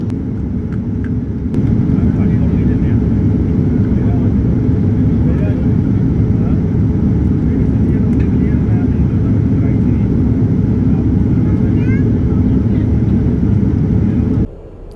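Cabin noise inside an Etihad Boeing 787-9 in flight in rough air: a steady, loud low-pitched roar that fills the cabin throughout.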